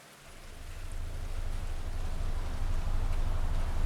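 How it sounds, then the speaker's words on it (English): Heavy rain downpour, a dense hiss of rain on surfaces that swells up from near quiet within the first second and keeps building in loudness to the end. "go outside into the downpour of rain"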